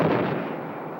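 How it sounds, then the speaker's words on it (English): Artillery fire booms over Baghdad in a single deep, reverberating burst that rolls away and decays across the city, heard from a distance with no voices. "sound of the Iraqi guns reverberating around the city were broken by the deep explosions of incoming missiles and bombs"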